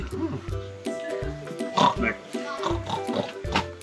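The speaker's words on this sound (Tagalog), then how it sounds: "Baboy!" Pig grunts and oinks repeat in short rhythmic bursts, close by, with people's voices speaking Filipino mixed in underneath.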